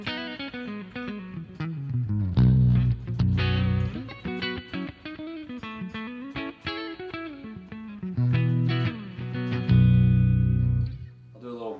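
A PRS electric guitar plays clean through its neck humbucker wired permanently in parallel coils, giving a bright, snappy tone; chords and single-note lines ring out continuously at close range, with no talking.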